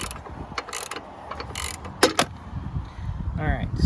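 A socket ratchet loosens a battery terminal bolt on a 2020 GMC Sierra Denali pickup, giving a few short bursts of quick clicking pawl ratchets close by, separated by pauses, with a faint metallic scrape near the end.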